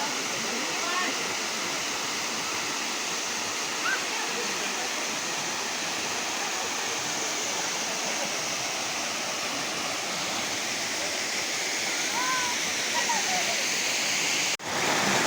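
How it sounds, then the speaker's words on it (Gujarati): A waterfall in Ratanmahal wildlife sanctuary roars as a loud, constant rush of falling water close by, steady throughout, with faint voices barely showing beneath it. "આ જો એક ધોધ પડી રહેલો છે"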